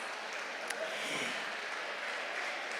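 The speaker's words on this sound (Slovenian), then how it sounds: "dajmo mu nameniti en aplavz" An audience at a pensioners' gathering with the mayor in Ravne na Koroškem claps steadily and evenly for a couple of seconds, a soft, distant wash of applause with no clear voices.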